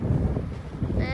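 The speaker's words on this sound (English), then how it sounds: "And the wind is pretty windy." Gusty outdoor wind buffets the microphone in a low roaring rush, with a brief voice breaking in near the end.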